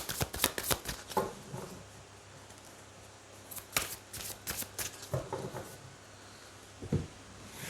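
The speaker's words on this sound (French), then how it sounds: "on va prendre 3 cartes" Tarot cards shuffled and handled in a French tarot reading, giving a run of quick, crisp riffling slaps and flicks in bursts separated by short quiet gaps, close and fairly soft.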